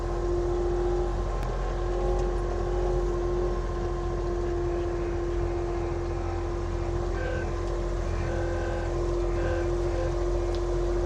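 An Avant compact loader drones steadily with a constant engine hum and tonal whine while spreading gravel on a construction site, continuous and fairly close, with no pauses or talk.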